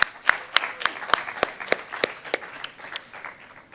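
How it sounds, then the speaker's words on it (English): A short round of applause from the members of a student senate meeting, a few hands clapping in a loose, uneven rhythm that fades out within a few seconds. "Let's give a round of applause for using the whole budget."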